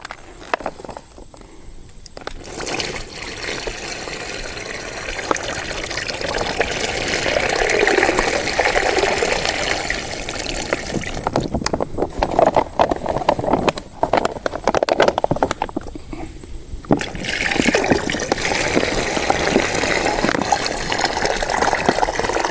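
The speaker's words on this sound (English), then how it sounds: "we're just going to pour the dirty water into the reservoir" Dirty water is poured from a container into the reservoir of a camp water filter, making a continuous close gushing and splashing that runs for about twenty seconds with brief pauses.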